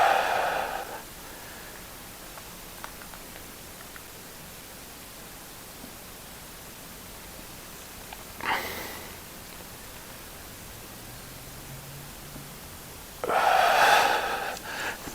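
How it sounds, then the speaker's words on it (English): Slow deep breaths during a floor hip stretch, with two or three clear inhale-exhale bursts separated by long quiet stretches of faint room hiss. "Nice deep breaths."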